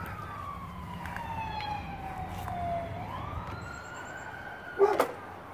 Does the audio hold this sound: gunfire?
no